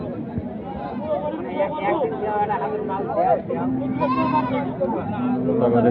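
Goats bleating at the Ambari livestock market, several wavering cries rising over a busy murmur of people talking and bargaining close by.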